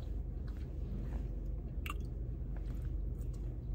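Toasted bread is chewed close up in a steady, muffled mastication with faint crunchy bites over low rumbling background noise.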